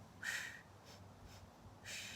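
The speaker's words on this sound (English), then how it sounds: "Sniff, sniff." Quick sharp sniffing breaths from a Pilates instructor during a mat workout with a small ball, several short nasal sniffs in rhythm, close and fairly quiet, with no talk.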